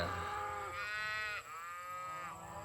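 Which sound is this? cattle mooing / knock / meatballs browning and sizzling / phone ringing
cattle mooing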